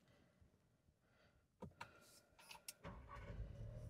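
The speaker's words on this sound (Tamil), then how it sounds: "நான் இன்ஜினை ஆன் பண்ணிக்கிறேன்." A compact SUV's engine starts with a short whirring crank, and then a low steady idle takes over and keeps running, close and fairly quiet.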